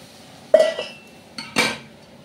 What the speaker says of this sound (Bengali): একটু নেড়ে চেড়ে নিয়ে ডালটা ঢেলে দেবো।